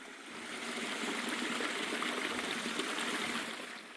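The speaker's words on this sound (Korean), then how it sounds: "저 멀리 물소리가 들립니다" A mountain stream flows through a forested valley near Hyeontongsa temple in Seoul, a soft, steady rushing burble heard from some distance without talk.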